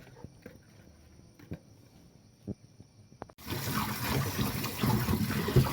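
Taro stalks are washed under a tap. A few soft clicks and knocks come first, then running water starts abruptly and keeps pouring steadily and close by.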